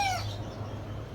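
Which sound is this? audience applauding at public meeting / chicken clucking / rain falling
chicken clucking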